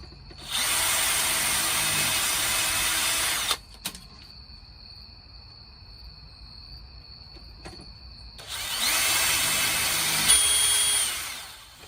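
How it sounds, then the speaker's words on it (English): A loud power drill runs steadily for about three seconds, boring latch and deadbolt holes in a storm door, stops through a quieter stretch with faint knocks, then drills again for several seconds. "drilled out the holes for the latch and the deadbolt"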